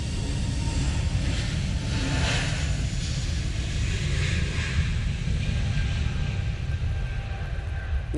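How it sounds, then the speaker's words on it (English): An Airbus A320neo airliner takes off at Manchester Airport in wet, windy weather, a steady broadband engine roar with wind rumble that holds at an even, fairly distant level throughout. "Using that A320 Neo."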